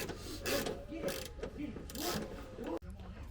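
A wrench ratchets on a bolt of a Porsche 987 Cayman in repeated rhythmic clicking strokes near at hand, with a voice faintly audible behind.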